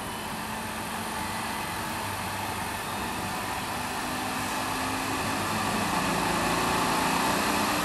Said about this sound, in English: Now let us further increase the frequency for higher RPM.